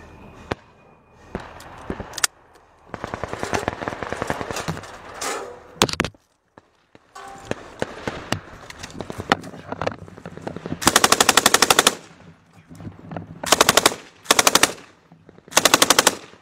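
Machine gun fire in a combat setting, bursts of rapid automatic shots and single cracks spread across the stretch, loud and near, with short pauses and the heaviest bursts toward the end.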